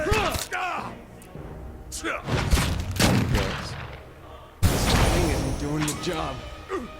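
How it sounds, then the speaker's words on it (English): Bursts of loud gunfire in the video game Pillars of Eternity crash in repeatedly, sharp and close, with bursts of rapid shots separated by short lulls and some voice mixed in. "Nobody hears the gunshots or anything."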